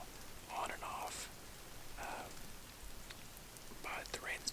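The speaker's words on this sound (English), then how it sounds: "It's been raining probably for maybe a couple hours now, on and off." Light rain pattering through a Colorado forest on an elk archery hunt, a soft continuous hiss broken by quiet whispered voices close by.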